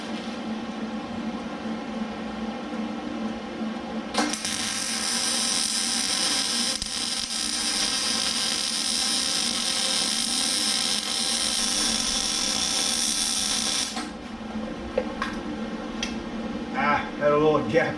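A MIG welder lays a continuous bead on a thicker steel bracket, a steady close crackling hiss lasting about ten seconds that cuts off abruptly, followed by a few clicks and handling sounds.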